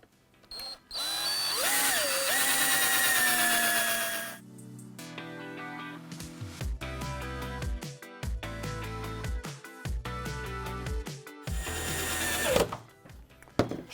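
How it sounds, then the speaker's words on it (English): A power drill drives 4-inch screws into timber noggins for a media wall frame, a long whirring burst followed by several shorter pulsing bursts, close and loud. "I'm going to start to fix these together, again using the 4-inch screws, drilling some pilot holes so the timber doesn't split."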